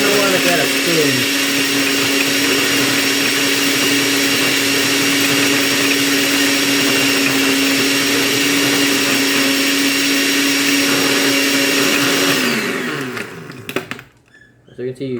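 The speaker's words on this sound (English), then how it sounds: "You're gonna want to blend it for a little bit more time." Blender whirring through iced coffee, a loud steady motor roar with a grinding rattle of ice that holds for about twelve seconds before spinning down and cutting off.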